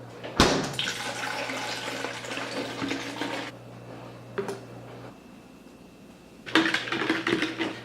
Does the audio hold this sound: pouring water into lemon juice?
yes